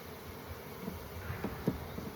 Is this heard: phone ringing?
no